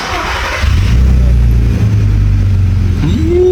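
An Audi TT 3.2 VR6 engine with a cold-start problem cranks and catches, then runs in a loud, steady idle close by before a brief rev rises near the end.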